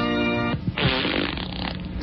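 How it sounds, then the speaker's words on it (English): A comic fart sound effect in a novelty song on a radio show: a sustained musical tone breaks into a long, buzzing, sputtering flatulent blast close and loud. "Anyone out there want to pull my finger? I like to fart."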